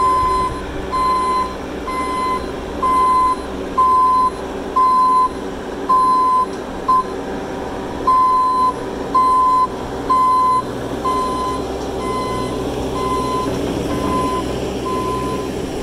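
Repeated reversing beeps sound in a steady on-off rhythm as a skid steer backs out of a PJ dump trailer, with an engine rumbling underneath throughout and no talk.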